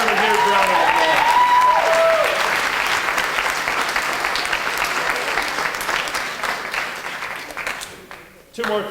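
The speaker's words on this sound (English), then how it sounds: "give yourselves a huge cheer and a huge round of applause" A large crowd cheers and applauds at an arts hub grand opening, a loud sustained wash of clapping with whoops and a few whistles early on, fading slowly before a voice resumes at the end.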